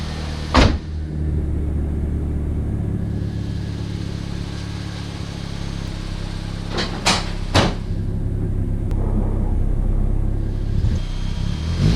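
A turbocharged Mazda Miata on its first test drive, its steady engine drone and road rumble heard from inside the car over a long stretch, with a few sharp clicks or knocks cutting through.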